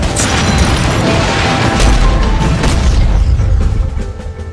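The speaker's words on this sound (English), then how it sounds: "And explosions." Heavy, rumbling booms and crashes from the Jagged Alliance 3 game trailer roll continuously, loud and dense, with bursts of blasts layered over a deep low-end roar, fading slightly at the end.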